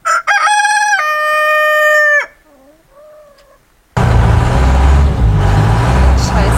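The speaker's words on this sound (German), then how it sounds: "Hier sind die Hühner." A rooster crows loudly at the start in a long harmonic call, followed by quieter clucking from chickens, then a burst of loud wind or handling noise fills the rest.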